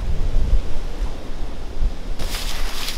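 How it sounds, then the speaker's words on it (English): Strong wind blows outdoors at an off-grid homestead, a steady low rumble buffeting the microphone that swells into a brighter gust near the end, with no voices. "It's really windy."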